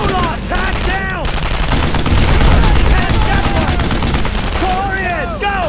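Rapid bursts of rifle and machine-gun fire crackle nonstop through a World War II firefight in Brothers in Arms: Road to Hill 30, with soldiers' voices shouting over the shooting.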